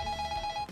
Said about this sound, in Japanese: ちょっとふーちゃんに電話するわ